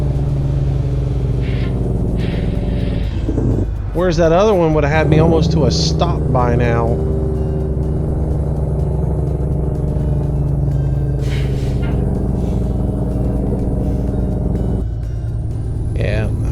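Modded truck engine in American Truck Simulator running under Jake brake, a steady deep rumbling drone that holds for the whole stretch, with someone talking over it.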